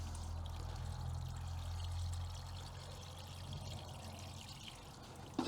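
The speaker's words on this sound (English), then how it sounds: "Then we'll put some water into the centre." Water pours steadily into the centre of a tomato plant halo filled with compost, a soft continuous trickling and splashing that stays quiet and close, with a brief louder splash at the very end.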